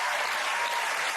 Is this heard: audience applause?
yes